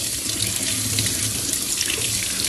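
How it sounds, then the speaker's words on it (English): Hot water running from a kitchen tap, a loud, steady gushing splash that stays constant throughout with no voices over it. "I'm gonna let it run for a little while so it can get like that boiling temperature."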